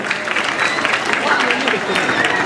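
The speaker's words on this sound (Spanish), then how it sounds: "Un forte aplauso para estes payasetes" An outdoor carnival crowd applauds clowns, a dense even wash of clapping that continues throughout with voices mixed in.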